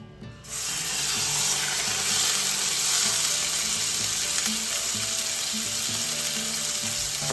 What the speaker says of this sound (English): I always like to get a nice sear on both sides of my chuck roast